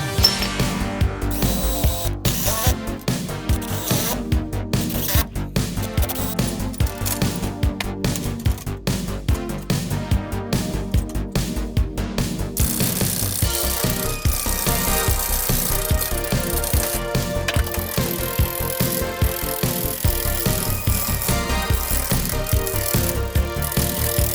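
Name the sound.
lathe cutting through resin mould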